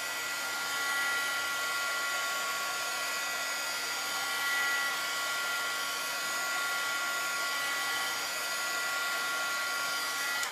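A hair dryer blows steadily to dry a transfer on a board, a constant close whooshing whine with no talk over it.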